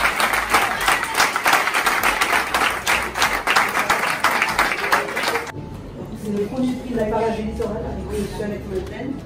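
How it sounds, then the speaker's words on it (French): Audience applause at a carnival group awards ceremony, a dense burst of clapping for several seconds, then a voice over a lower crowd murmur. "On applaudit."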